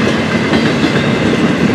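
An FEC freight train rolls along the rails nearby, a loud, continuous rumble with rhythmic wheel clatter and no voices.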